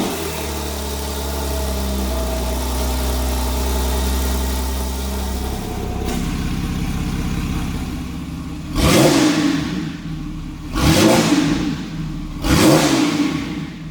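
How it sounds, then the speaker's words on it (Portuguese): A Porsche 911 engine with aftermarket headers idles with a low rumble, then three loud exhaust revs roar up and fall away in quick succession. "o ronco desse carro está muito legal por conta do coletor"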